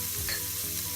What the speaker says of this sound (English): So you put the carrot first. Saute a little bit.